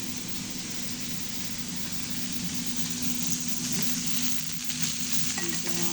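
Onions fry for a homemade burger in a pan, a dense, even sizzle running loud and unbroken throughout with faint clinks near the end and nobody speaking.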